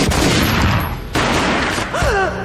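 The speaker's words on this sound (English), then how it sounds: "A gunshot boomed and she fell down in slow motion" Gunfire in the Max Payne video game: a dense burst of loud, cracking shots fills the first second, a short gap, then more heavy shots follow, ending with sharp whistling ricochet-like tones over the din.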